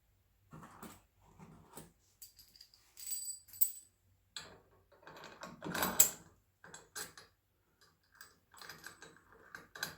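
Ratchet tightening a bolt on a 4-link suspension, scattered bursts of quick clicking and metallic rattles separated by short pauses, close and fairly quiet.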